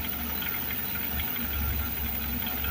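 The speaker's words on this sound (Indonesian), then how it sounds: "sekarang ini kita coba gas pelan-pelan" An engine running on compressed natural gas idles with a rough, knocking rumble as the throttle is opened gently, close and steady with slight uneven vibration, no voices.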